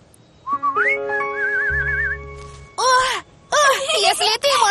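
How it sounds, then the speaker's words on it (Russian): A person whistles a short wavering, warbling tune in a Russian cartoon, followed by bursts of animated voices talking. "Зайчата могут свистеть."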